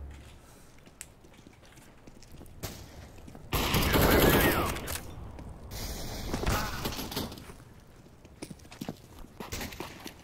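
Auto sniper rifle fire in CS:GO comes as sharp cracks and bursts, with a heavy loud cluster in the middle and scattered shots before and after, amid in-game clatter.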